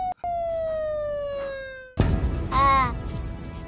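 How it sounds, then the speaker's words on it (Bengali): A police car siren in a Bangla TV drama holds a steady, slowly falling wail for about two seconds, then breaks off as a loud voice cuts in. "ওই তো পুলিশের গাড়ি চলে আসছে।"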